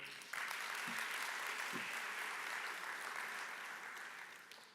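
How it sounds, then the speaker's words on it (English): A business conference audience applauds steadily and densely, the sustained clapping filling the room from start to finish and fading slightly at the end. "Round of applause for him."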